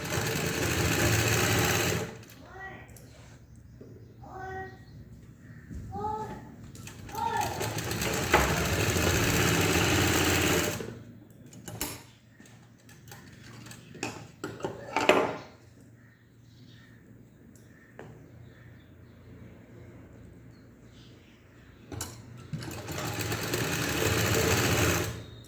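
An electric sewing machine stitches a blouse neck in bursts, a close, loud, fast mechanical whir that starts and stops several times with quiet pauses and a few handling clicks between runs.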